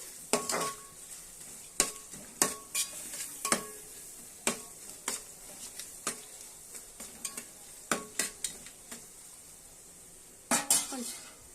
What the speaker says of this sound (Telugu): సాల్ట్ వేసుకొని బాగా వేయించుకోవాలి